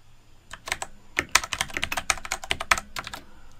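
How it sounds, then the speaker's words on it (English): Rapid typing on a computer keyboard in an office setting, a close run of crisp, uneven keystrokes with no talk. "I'm just typing"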